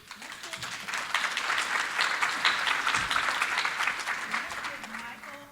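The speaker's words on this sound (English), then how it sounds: "A round of applause." Audience applause after a talk on AI agents, steady dense clapping from a sizeable crowd that holds at an even level for several seconds without letting up.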